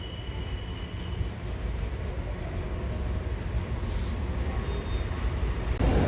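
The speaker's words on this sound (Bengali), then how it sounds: "ট্রেন যাচ্ছে।" A train rumbles past at a steady, fairly loud level, a continuous low roar with rattling texture that holds throughout, heard at the roadside on a trip from Kolkata toward Balasore, Odisha.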